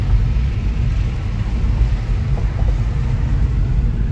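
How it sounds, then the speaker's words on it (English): A steady, low engine rumble runs continuously at close range, with a constant droning drone and no pauses. "You're gonna hear the engine."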